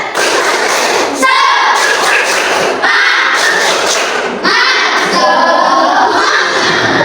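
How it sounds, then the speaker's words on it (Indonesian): Children in a classroom perform a rhythmic spirit clap, loud patterned bursts of clapping and thumping in repeated rounds, with voices shouting along between them. "1, 2, 3. Tepuk semangat."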